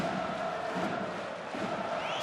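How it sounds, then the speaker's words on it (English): At the 2016/17 CHL Final against Frölunda, Sparta Prague's travelling fans behind the goal keep up a continuous loud crowd roar and chanting at the ice hockey game, steady and unbroken, with no talk over it. "That noise you hear is the Sparta Prague visiting crowd section behind the goal of"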